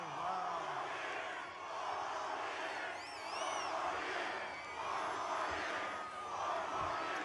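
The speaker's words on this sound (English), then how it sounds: "Good crowd. This is a hell of a crowd." A large crowd at an outdoor campaign rally in Montoursville, Pennsylvania roars and cheers continuously, with swelling waves of shouting and whoops from many voices across the whole stretch.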